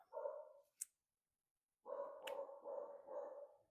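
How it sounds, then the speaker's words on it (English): A dog indoors barks at something outside, a few faint, muffled barks in two bursts separated by a short silence, with a brief sharp click in between. "I don't know what Snoopy's barking at"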